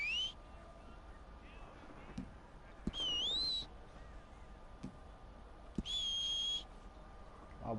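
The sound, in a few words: whistling in the video game Red Dead Redemption 2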